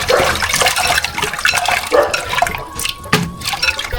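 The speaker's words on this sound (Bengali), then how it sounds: "এই যে মাছগুলো ভিজিয়ে রাখা হয়েছে, এখন হচ্ছে এগুলাকে লবণ দিয়ে ভালো করে ধুয়ে নিব" Fish being rinsed with water and salt in a clay pot: continuous close splashing and sloshing of water with brief drips and pours, loud and uninterrupted, no voices.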